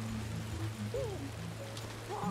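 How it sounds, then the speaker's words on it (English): Steady rain falls in the prehistoric survival game Ancestors: The Humankind Odyssey, a constant hiss of drops on surfaces that continues without pause alongside low game tones. "We'll maybe get out of the rain."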